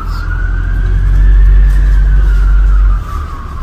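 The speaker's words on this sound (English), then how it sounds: "follow those fire engines" A fire engine's wailing siren tone drifts slowly up and back down over a heavy, loud engine rumble close by, lasting a few seconds before the roar drops off.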